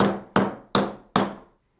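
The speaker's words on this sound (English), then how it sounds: "I'm going to use a socket and a hammer, and we're just going to tap this thing down" A hammer strikes a socket four times in steady succession, tapping down on an XR250R dirt bike shock during a rebuild; each hit is sharp and close, ringing briefly before the next.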